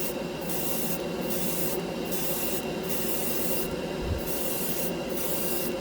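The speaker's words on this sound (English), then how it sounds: "It really airbrushes well over primer." An airbrush sprays Mr. Color lacquer paint over primer in a steady, continuous hiss, with faint rhythmic rubbing or clicking pulses repeating through it.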